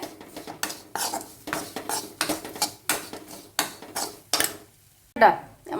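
Pickle ingredients with fenugreek seeds are stirred in a metal pan, with a spoon scraping and clinking against the pan in quick, repeated strokes before a brief pause and one final clatter.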